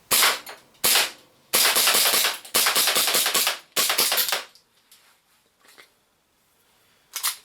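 An ARMY custom 5.1 gas airsoft pistol fitted with a Costa compensator fires a rapid string of sharp, loud, close-up shots, followed by a few fainter pops near the end as the gas runs low.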